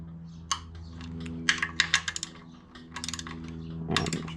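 A torque wrench clicks as it tightens the oil pan bolts on a 2JZ-GTE engine to 78 inch-pounds, giving a series of sharp, close clicks in irregular clusters over a steady low hum.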